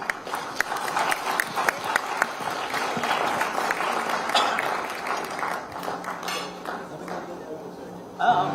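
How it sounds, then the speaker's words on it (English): Audience applause following a panel discussion at a maritime security dialogue in Manila, a steady sustained clapping from a crowd lasting several seconds, moderately distant, with some faint background clinks and murmur. "Once again, let's give them a round of applause."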